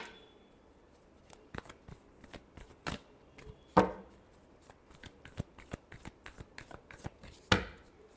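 Tarot cards being shuffled by hand, a run of soft papery riffles and sharp snaps with two loud card slaps standing out, close and alone with no talk.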